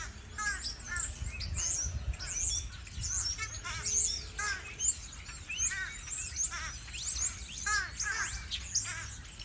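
Many crows caw and squawk together from a tree, a dense, overlapping chorus of harsh calls with chirps from other birds, fairly close and continuous throughout.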